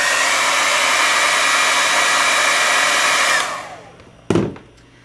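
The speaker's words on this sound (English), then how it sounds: "I'm gonna show you how you can use the hair dryer too" A hair dryer blows steadily and close for several seconds to warm a nail wrap, then switches off with a short click as its roar fades away.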